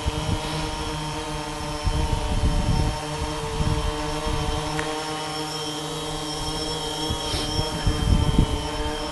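DJI Phantom 2 V2 quadcopter drone with new motors hovering overhead, a steady multi-toned propeller whine and buzz with gusty low rumbles of wind throughout.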